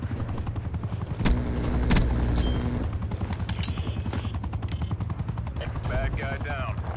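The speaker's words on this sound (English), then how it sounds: "Attack helicopter available for tasking." An attack helicopter in the Call of Duty video game whirs steadily with a pulsing rotor beat while bursts of gunfire and booms punctuate the scene and a radio voice speaks over it.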